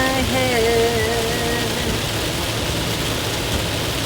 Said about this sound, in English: Feels like raindrops falling on my head.